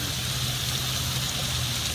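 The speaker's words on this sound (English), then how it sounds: "Nothing like hearing the running of water, watching the little waterfalls as we start our journey down this street." Small street waterfalls in Natchitoches, Louisiana run steadily and close by, a continuous broadband splash and trickle with no pauses and no voices.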